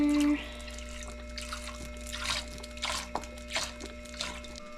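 Whole milk poured into a bowl of egg whites, soft liquid splashes and trickling drips at close range, a few brief gurgling bursts over a quiet kitchen hum.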